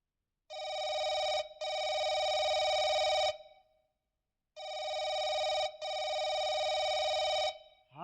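A telephone rings in a staged village folk-theatre comedy: two long double-burst electronic rings separated by a pause, loud and close, with no talking over them.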